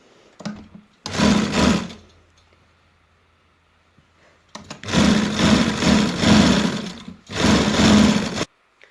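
A sewing machine stitching a half-inch strip for a baby boy's kurta, running in three whirring bursts of rapid stitching with quiet pauses between, close and loud with no voices.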